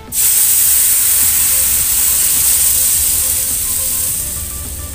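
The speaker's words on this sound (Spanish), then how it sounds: "en lo que está cociendo el tomate" Tomatoes cook in a frying pan with a loud, close, constant sizzling hiss that starts abruptly and carries on steadily, easing slightly toward the end.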